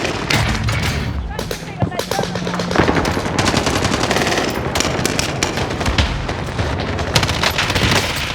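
M13 assault rifle fire in Call of Duty Warzone, long rapid automatic bursts rattling almost without pause, loud and close, with heavy booming impacts mixed in and a voice talking briefly underneath.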